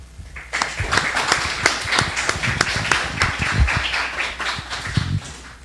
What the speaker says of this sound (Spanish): vamos a dar un fuerte aplauso y agradecemos la presencia de la arqueóloga